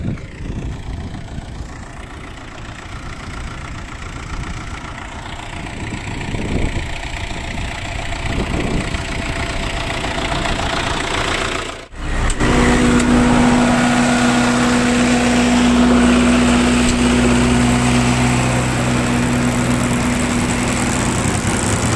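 A crop sprayer fitted with new Ecojet centrifugal nozzles runs steadily with its agitator mixing the tank, a loud continuous engine-like drone. A brief dropout comes partway through, then a steadier hum with a sustained tone.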